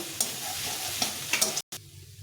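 Momo filling stirred in a hot pan, a close sizzle with several spoon scrapes and taps, broken by a brief cut near the end before a quieter patch of frying, with no one speaking.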